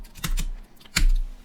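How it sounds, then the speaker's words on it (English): Keys clack on a computer keyboard as a name is entered, two quick taps followed by a sharper, louder keystroke, close by in a quiet room. "I'm typing text."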